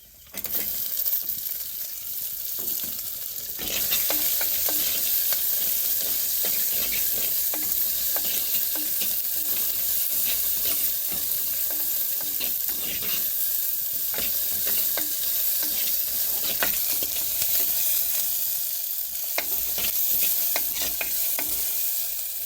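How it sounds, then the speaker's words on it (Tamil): Onions sautéing in a pan with fenugreek seeds, cumin and dried red chillies, a steady close sizzle with frequent stirring clicks of a spoon against the pan, rising louder after a few seconds and holding through the whole stretch. "வெங்காயம் நல்லா வதங்கிடுச்சு"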